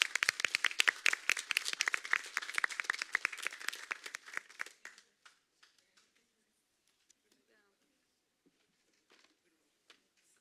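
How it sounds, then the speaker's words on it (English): Applause from attendees at a city council meeting, a burst of brisk clapping that is close and fairly loud for about five seconds, then dies away into scattered claps and quiet room noise. "So a round of applause,"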